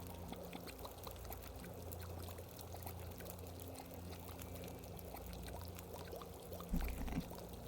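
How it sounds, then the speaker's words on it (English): River water flows steadily across a wide stretch in The Long Dark, a continuous soft rushing trickle with a brief louder splash near the end, and no talking. "That is quite a wide bit of the river."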